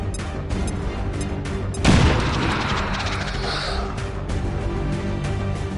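A frag grenade detonates in XCOM 2, a loud, close boom with a crackling blast tail about midway, set against ongoing mechanical game noise and scattered sharp clicks.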